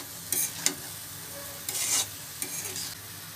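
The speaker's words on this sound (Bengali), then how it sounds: "সামান্য পানি দিয়ে দিচ্ছি।" Pointed gourd and prawns in a frying pan, with a little water just added: a few short bursts of sizzling and stirring scrapes, close and moderately loud, with quiet gaps between.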